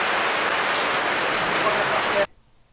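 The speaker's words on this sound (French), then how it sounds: "il pleut" Steady, dense rain pouring down and pattering on surfaces, loud and continuous, then cutting off abruptly near the end.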